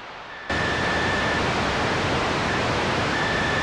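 A synthesized noise patch from the ELZ_1 play synth, run through a distortion effect, bursts in after a brief quiet lead-in and then roars as a steady, loud, waterfall-like hiss with faint tonal whistles on top.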